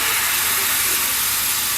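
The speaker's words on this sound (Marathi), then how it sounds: "आता मी घालून घेतो या घावनो." Rice batter for ghavane hits a hot oiled pan, producing a loud, steady, close-up sizzle with a bright hissy wash that holds evenly throughout, with no talking.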